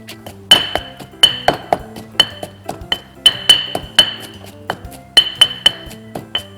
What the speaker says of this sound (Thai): แล้วก็โขกไปเรื่อยๆครับ นี่คือพริกที่แช่น้ำแล้วมันก็จะโขลกง่ายๆครับ